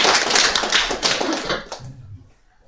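Clapping from a small church congregation after a trot song; a close, crisp burst of hand claps that tapers off after a couple of seconds, leaving a faint low murmur.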